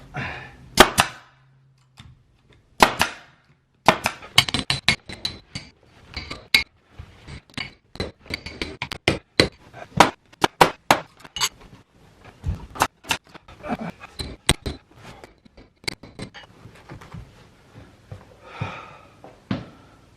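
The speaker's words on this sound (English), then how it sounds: "Tuck it under, staple it as high as I can." A staple gun fires again and again while carpet is fitted onto stairs, giving sharp, close metallic snaps in an irregular series with short pauses and soft handling noise in between.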